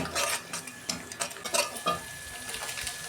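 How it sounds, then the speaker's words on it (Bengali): Spices with salt and turmeric cook in a pan with a little water for an eggplant dish, heard as soft frying under a series of irregular scraping and tapping stirs. "দিয়ে আমি 2 মিনিট কষাবো।"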